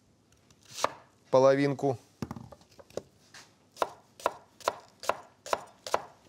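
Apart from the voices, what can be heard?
knife finely chopping onion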